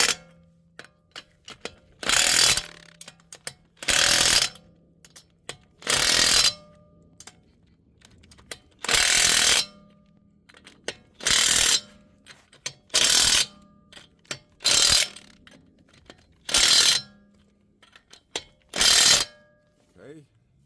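Repeated bursts from an impact wrench removing an axle nut on a Toyota Corolla, Matrix, Camry or RAV4 during an axle seal job, about ten loud rattling hammering bursts of one to two seconds each, separated by short pauses.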